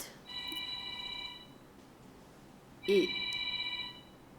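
A mobile phone rings during a spiritual lecture, a steady electronic ringtone in two bursts with a short gap, faint and mid-distance over quiet room noise.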